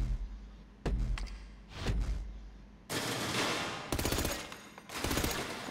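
Micro submachine gun fired at a GTA 5 shooting range: short loud bursts of rapid automatic fire, first two brief volleys and then three longer sustained bursts close by, separated by short pauses, with no talking.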